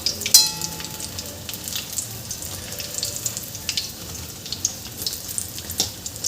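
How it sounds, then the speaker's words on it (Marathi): Potato-stuffed green chili pakoras deep-fry in hot oil, a continuous crackling sizzle with scattered sharp pops and a few light clinks of a utensil against the pan. "तर अशा प्रकारे मी हे छान पकोडे तळून घेते."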